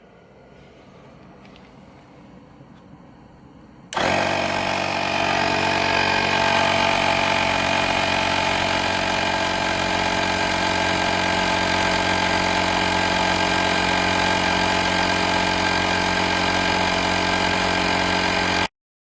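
Quiet at first, then a small AstroAI 12V tire air compressor switches on with a loud, steady buzzing rattle that runs without pause until it stops.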